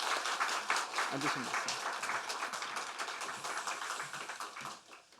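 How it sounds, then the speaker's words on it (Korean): Church congregation clapping in congratulation during a Sunday service baptism, a moderate patter of hands that fades toward the end, with a voice speaking briefly over it. "축하의 박수드립니다."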